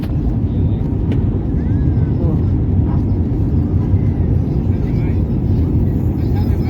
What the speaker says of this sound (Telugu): ఫ్లైట్ స్టార్ట్ అయింది. చాలా ఫాస్ట్గా పోతా ఉండదు. ఇప్పుడు ఎగిరిపోతుంది ఫ్లైట్ పైకి.